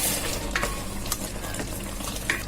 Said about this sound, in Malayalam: ഇനി നമുക്കിത് ശർക്കര പാനിയിലേക്ക് ഇട്ട് കൊടുക്കാം